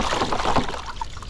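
Crab being swished around in water after cleaning, a short burst of sloshing and splashing close by with small gurgles, over a steady low hum.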